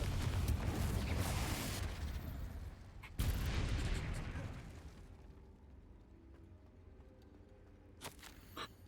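Blasting curse explosions in the Hogwarts Legacy video game, two loud, booming fire blasts a few seconds apart, each decaying into a crackling rumble, followed by a sharp faint pop near the end.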